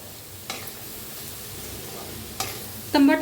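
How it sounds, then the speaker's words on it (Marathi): Tomato stirred into a vegetable curry frying in a pan: a low, steady sizzle with a couple of soft scraping strokes, and a louder clatter of the spatula right at the end. "आता टाकू ह्याच्यात तंबाटो भाजीला मिक्स करायचं"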